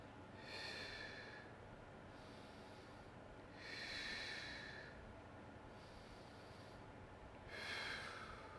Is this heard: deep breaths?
yes